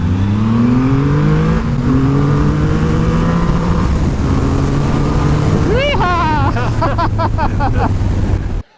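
Triumph Rocket 3 motorcycle with its 2.5 litre, 170 horsepower engine, revving hard and pulling away loudly with rising engine pitch through gear changes, ending in a rapid series of climbing revs.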